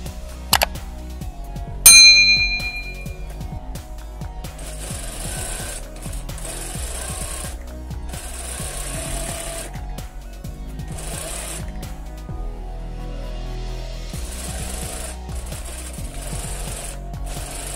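A sewing machine stitching a ribbon embroidery bag runs in several loud, close bursts of fast mechanical whirring separated by short pauses, after a couple of metallic clangs and a ding at the start.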